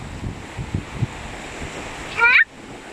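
Waves rolling in against a rocky shore near a heritage fortress village, a steady roar of surf and wind buffeting the microphone, with a brief louder gust and a faint voice nearby.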